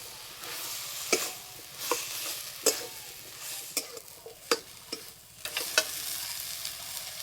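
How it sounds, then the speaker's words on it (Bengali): Washed bottle-gourd leaves being stir-fried with spices in oil in a pan, a steady low sizzle broken by repeated scraping clatters of a spatula against the pan, close up with no voices. "এবার ধুয়ে রাখা শাক দিয়ে দেবো। এই মশলার সঙ্গে ভালো করে কষিয়ে নেব।"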